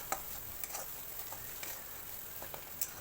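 Chili powder and turmeric sautéing in a pan for masala paneer, a faint, soft sizzle broken by scattered light scrapes and taps of a stirring spoon.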